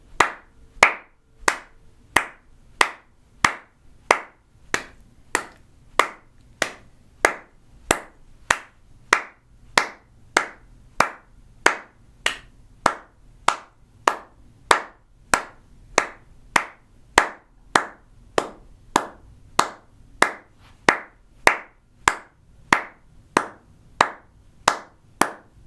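Sharp hand claps keep an even, steady beat for a long rhythm part, about three dozen close, loud claps repeating alone with short silences between.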